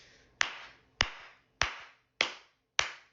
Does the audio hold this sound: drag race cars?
no